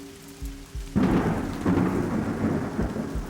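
Heavy rain pours steadily while a deep rumble of thunder rolls in and lingers, loud and close.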